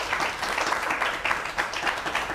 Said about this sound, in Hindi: उनका स्वागत कीजिए तालियों के साथ।